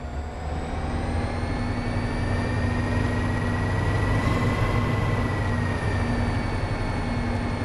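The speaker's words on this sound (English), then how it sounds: "Looks like there's a bunch of trains getting ready to start up here" Train engines idle and build in Train Sim World 2 on a Boston Sprinter route near Needham, a loud, steady diesel drone with low rumble and sustained whining tones that slowly rise, continuous throughout with no talk.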